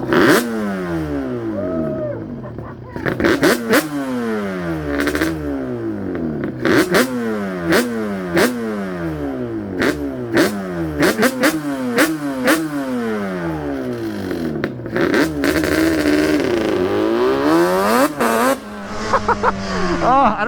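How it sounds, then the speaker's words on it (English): A Yamaha Banshee two-stroke engine revs hard in repeated rising and falling bursts, close and loud, while its tires burn out during a wheelie, with people talking over parts of it. "That's the tires just burning out. It's burning out and it's doing a wheelie"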